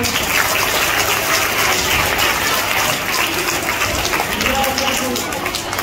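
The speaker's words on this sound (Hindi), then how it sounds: "देखो ये बच्चे के लिए तालियां बजा दीजिएगा" An audience claps for a child at a Van Mahotsav tree-planting event, a dense, continuous burst of applause from many hands, loud and close, with voices mixed in.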